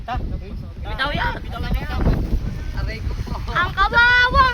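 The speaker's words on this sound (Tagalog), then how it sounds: "Lakas ng hangin." Strong wind buffets the microphone in open rice fields where children fly a large homemade kite, giving a loud, gusty roar beneath excited children's voices and shouting.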